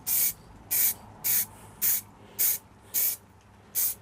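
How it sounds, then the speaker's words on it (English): A rattle can of aerosol spray paint sprays in seven short, evenly spaced bursts of sharp hiss, close and loud, with quiet gaps between each puff. "I mean, this is just rattle can"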